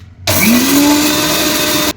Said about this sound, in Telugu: మిక్సీ పడదాం ఇప్పుడు